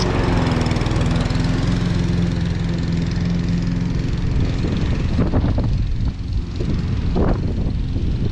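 A small Hayter 41 petrol lawn mower runs loudly and steadily while cutting grass, its engine drone close and continuous with brief load changes toward the end.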